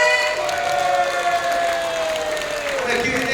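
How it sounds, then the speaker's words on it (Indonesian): An audience at a motivational talk in Indonesia applauds in a steady, dense wash of clapping that continues evenly throughout, with no voices rising above it. "Lebih meriah lagi tepuk tangannya boleh."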